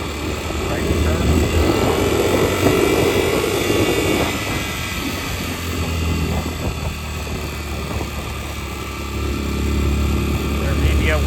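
A Kayo MR125 motorcycle engine fitted with a NIBBI PE24 carburettor drones loud and close, its revs rising and falling steadily, with a voice speaking over it.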